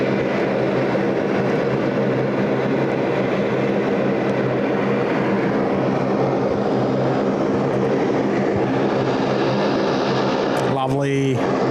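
A Jetstar airliner arriving at Sydney Airport from Cairns produces a loud, steady jet roar that holds throughout, with a brief rising whine near the end.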